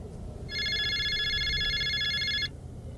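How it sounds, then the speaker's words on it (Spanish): A telephone bell rings in one sustained two-second burst, loud and close, with quiet background before and after and no voices. "El teléfono volvió a sonar."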